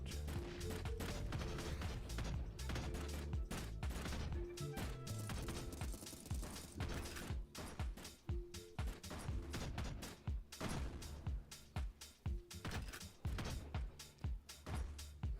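A video game rocket launcher and other weapons fire in a dense, continuous barrage of booms, blasts and crashes, loud and chaotic throughout with no clear pause.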